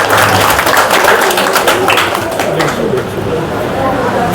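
Audience applause at a TFC event, dense crowd clapping that stays steady and fairly loud throughout, with a busy wash of hands and some crowd noise mixed in.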